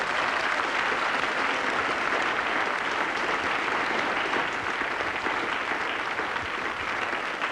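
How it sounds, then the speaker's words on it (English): Studio audience applause, steady and dense, fills the whole stretch with sustained clapping at an even level, no voices over it. "now I'd like a big round of applause, please, for these 6 lovely people"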